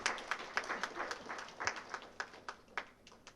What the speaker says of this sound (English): Please give them a big round of applause to all 3 of them.